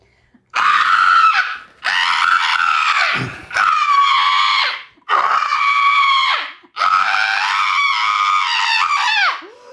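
A primal scream in a comedy film: five long, loud, raw yells in a row, each held for over a second with brief breaths between, close and unaccompanied.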